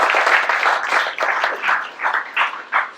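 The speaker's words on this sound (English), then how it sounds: "a round of applause for everybody" Meetup audience applauding for a community milestone, a brisk round of clapping close by that thins into a few scattered claps at the end.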